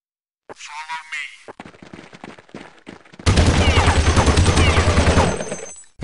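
Rapid bursts of Counter-Strike 1.6 gunfire in a bot match, loud and sustained, with a dense rattling barrage in the second half and some scattered shots before it.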